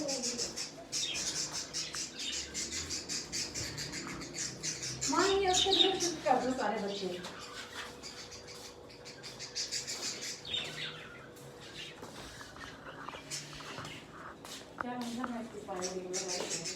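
Pet parrots and their chicks chirp and squawk in short bursts close by, with a louder flurry of calls midway, mostly under steady conversation in the room.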